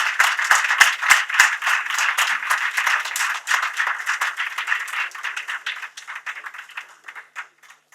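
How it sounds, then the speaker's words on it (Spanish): A modest audience at a seminar and awards ceremony for an oral litigation tournament claps for the top student, a dense patter of hand claps that thins out and fades over about eight seconds. "Así que un aplauso para él."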